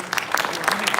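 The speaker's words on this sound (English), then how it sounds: "I hope the applause would be at its maximum" Applause from a ceremony audience crackles at moderate volume as a short, dense burst of clapping, with a voice briefly audible alongside.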